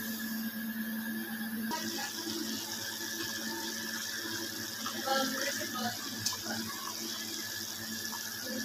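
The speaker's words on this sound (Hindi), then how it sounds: "धनिया काट लिया है, अभी इसे धो के ना डालते हैं।" Tap water runs steadily in a kitchen sink while chopped coriander is rinsed under it, a continuous splashing hiss with small clatters of handling.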